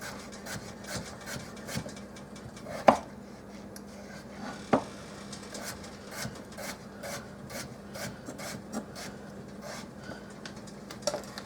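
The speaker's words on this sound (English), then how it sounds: "I'm going to finish cutting up my potatoes." Potatoes being cut for hamburger veggie soup, steady rapid rasping knife strokes on a board with a few sharper knocks, close and even, under a faint background hum, no talking.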